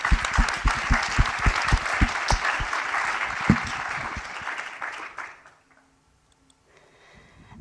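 An audience claps for an award winner at the Human Brain Project Summit 2023, steady dense applause for about five seconds that fades out into quiet room tone.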